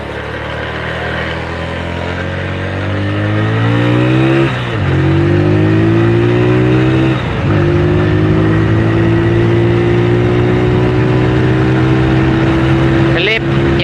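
A Honda Mega Pro motorcycle with a carburetor problem revs up in first gear, a loud close engine note climbing steadily in pitch, dipping briefly at shifts or throttle changes, then holding a high drone.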